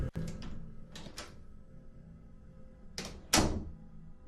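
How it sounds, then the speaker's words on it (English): A bathroom door opening in a quiet room: a few sharp clicks and thuds of the latch and handle, then a louder knock as it swings, fairly close and alone. "and the bathroom door opens."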